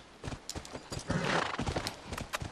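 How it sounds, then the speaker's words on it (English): A horse in The Last of Us gallops briefly with quick, close hoofbeats and snorts, and a whinny rises in the middle of the run. "Riding the horse."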